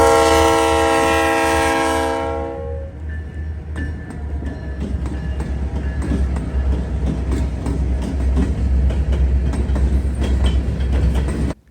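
A South Shore freight train passing through rural Indiana: a loud multi-tone horn blast for about two seconds, then a long rumbling roll of wagons with rhythmic clicking of wheels over rail joints.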